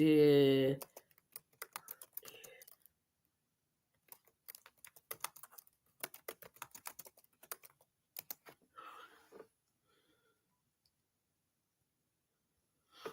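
Quick bursts of typing on a computer keyboard, with clustered clicks separated by short silent gaps; a brief voice is heard at the start.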